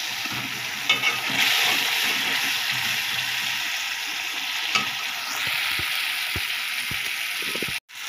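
Spice masala sautéing in a pan, a steady close sizzle with scraping stir strokes throughout and a sharp knock near the end; no voices.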